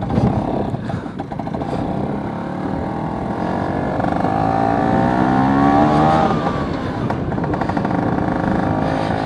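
A 200cc two-stroke Vespa P200E scooter runs steadily during a ride, its engine droning at close range with gradual rises in revs and pitch and continuous wind rush.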